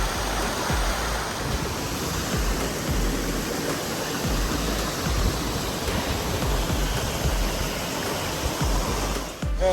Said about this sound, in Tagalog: Napakaganda at napakataas na falls.